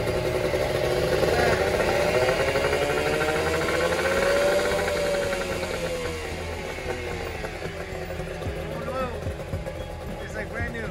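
A repaired sailboat engine runs steadily at close range, a continuous mechanical drone with a faint rising and falling tone, while people talk over it throughout.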